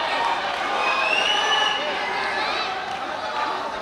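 A crowd at a night wrestling bout in Pasighat roars and shouts continuously, dense and loud, with individual yells and whistles rising above the wall of cheering.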